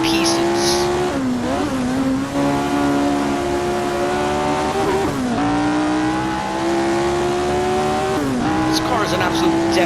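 Jim Clark's vintage Formula 1 car driven on the 1966 Monza oval in Assetto Corsa: a continuous loud, high engine whine that holds steady, dips briefly at gear changes, then climbs again. A voice talks over it throughout.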